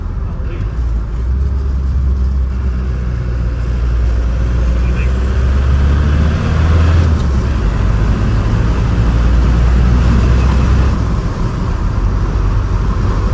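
Cummins-swapped four-cylinder 1950 Chevy tow truck driving, a steady loud engine drone with road rumble that holds throughout, with people talking over it.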